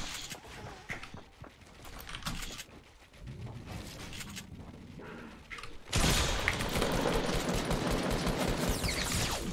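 Gunfire tears through player-built structures in the video game Fortnite: scattered shots and footstep-like clatter at first, then a sudden loud, sustained burst of rapid fire for the last few seconds.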